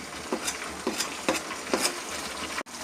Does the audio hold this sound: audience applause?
no